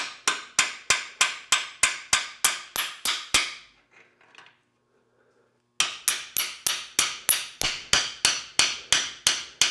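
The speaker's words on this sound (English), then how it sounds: "So the same way you got it out, pry it the other way to get it back inside." Rapid, evenly spaced metallic strikes ring out loud and close while the torque tube drive shaft of a Porsche 944 is worked back into place. They pause briefly near the middle, then resume at the same steady rhythm.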